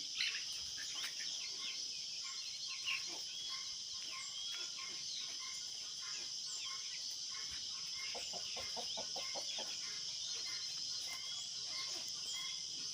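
Desi chickens on a free-range farm cluck softly in the distance against a constant high drone of crickets, quiet and outdoors.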